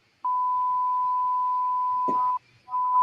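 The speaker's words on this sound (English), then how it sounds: "She laid on the key and it mutes the mic and just goes beep." A steady electronic censor beep holds for about two seconds after a cat lies on a keyboard key, briefly interrupted by a thump, then resumes; no speech.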